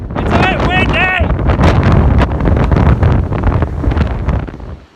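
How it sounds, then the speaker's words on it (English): Heavy gusts of wind batter the microphone on an open moorland path near a reservoir, a loud rumbling roar with a few brief whistling tones early on, fading slightly at the end. "It's a bit windy!"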